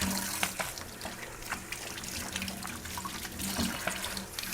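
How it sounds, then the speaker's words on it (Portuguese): Tap water runs steadily into a sink while potato peels are rinsed, a continuous splashing stream with occasional sharper splashes and clicks, close by and without talk. "Lave bem as cascas das batatas."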